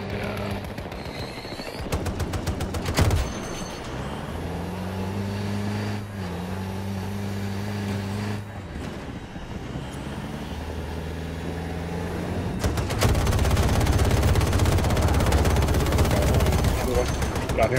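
Machine gun fire in Battlefield 2042, bursts of rapid automatic shots over a droning vehicle engine, with sustained heavy firing toward the end amid game noise.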